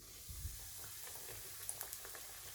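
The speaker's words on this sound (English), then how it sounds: "I'll start frying the chicken." Quiet sizzling of buttermilk-marinated chicken frying in hot oil over medium-high heat, with a few soft pops and a light stirring scrape near the start.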